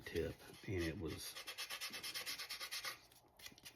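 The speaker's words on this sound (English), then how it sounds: "putting the wings together and filing the edges and getting the edges sanded down" A plastic model B-26B airplane wing edge being filed and sanded, steady rhythmic rasping strokes in a fast back-and-forth pattern, close and fairly quiet, after a couple of heavier rubs at the start.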